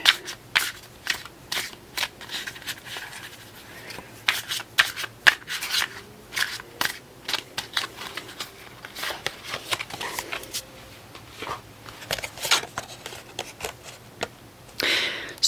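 A Golden Art Nouveau Tarot deck being shuffled up close: crisp, papery riffles and snapping card edges come in quick, irregular bursts over a quiet background for the whole stretch.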